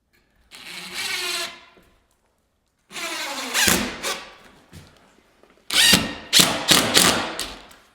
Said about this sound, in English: And then you run a screw in them.